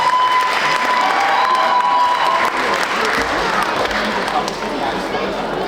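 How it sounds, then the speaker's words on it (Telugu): A crowd at a Telugu Sankranti festival gathering applauds Srikavya after her song, the clapping loud and continuous at first and then softening slightly, with voices talking over it. "ఒకసారి క్లాప్స్ టు శ్రీకావ్య."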